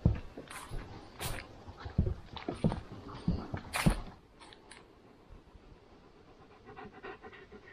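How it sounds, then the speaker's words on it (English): A dog on a hiking trail pants in rapid, rhythmic bursts close to the microphone for about four seconds, then quiets to faint breathing against soft outdoor background. "You're panting just as much as me, just to let you know."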